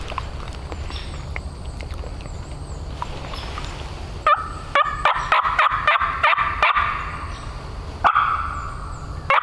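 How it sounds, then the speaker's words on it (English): A wild turkey gobbling in the distance during spring turkey season outdoors, with repeated rolling gobbles standing out over faint background noise, and close scuffing and thumping sounds from movement nearby. "I'm gonna try to keep him to gobble again and see where he's at."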